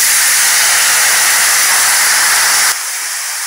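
Pumpkin drops into hot oil with bay leaf, panch phoron and green chilli, setting off a loud, dense sizzling hiss that runs steadily and then thins abruptly near the end, with no talking.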